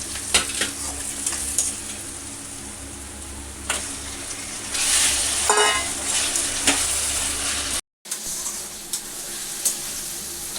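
Mutton drops into onions already softened in a hot pan for mutton curry, giving loud, close sizzling and frying with spoon-stirring scrapes. The sound cuts out briefly, then the frying resumes.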